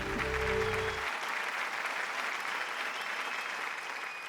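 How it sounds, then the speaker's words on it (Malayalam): Studio audience at a Malayalam TV game show bursts into loud, dense clapping that holds steady throughout without any talking, after a brief low musical sting at the start. "നല്ലൊരു കൈയടി."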